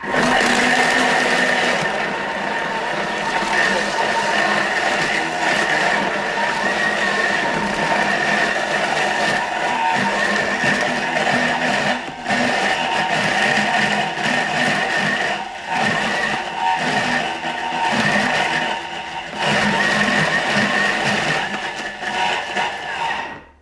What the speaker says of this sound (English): you can hear, I'm sure, that the motor's trying to move all this very frozen fruit around